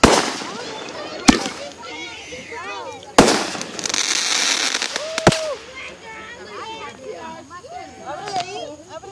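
Fourth of July fireworks at a TNT fireworks show boom in several sharp blasts, with crackling bursts and whistles between them, while children and adults chatter and exclaim nearby.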